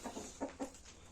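Hens kept at a small Kazakh home coop cluck in a quick run of four or five soft, faint pulses, then fall quiet, with no voices over them.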